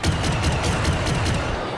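Dense, continuous gunfire from the video game Star Wars Battlefront II, rapid repeated blaster-style shots forming a steady fusillade with booming low end throughout, loud and without talk over it.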